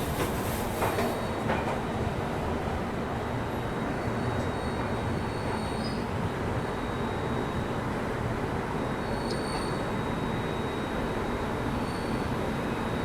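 The Gatimaan Express runs through Agra Cantt with a loud, continuous rumble and wheel noise, joined by faint high squeals and a few sharp clicks near the start.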